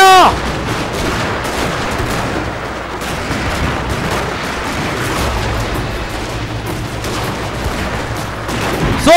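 Musket volleys crackle almost nonstop in the strategy game Shogun 2, a dense, loud wall of overlapping gunfire with faint booms beneath it, sustained without a break.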